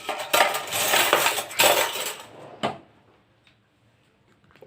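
A small spoon pulled from a kitchen cutlery drawer or holder: loud metallic clattering and rattling of silverware for about two seconds, a final clink, then near silence.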